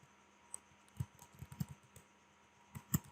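Keystrokes on a computer keyboard as a site name is typed, a handful of soft, close clicks in short uneven bursts against a quiet room.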